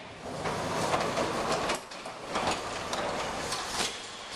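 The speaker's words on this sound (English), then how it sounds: "Now I'm going to completely shut the door." A residential garage door with freshly lubricated bottom rollers and brackets being pulled fully shut, giving a steady rolling, rattling rumble with a few louder clunks as the panels travel down and close, heard close up with no talk.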